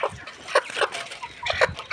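A layer hen recovering from an eye-swelling illness clucks in a few close, short, uneven bursts with no talk.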